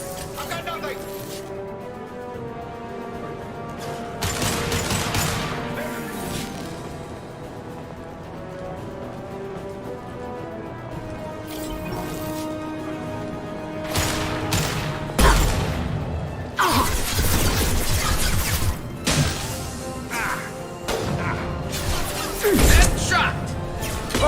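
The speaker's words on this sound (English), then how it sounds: "Firing concussive shot!" Gunfire and a concussive shot in Mass Effect 2 Legendary: loud broadband blasts and cracks come in clusters around in-game combat, over a steady ambient bed, with voices talking throughout.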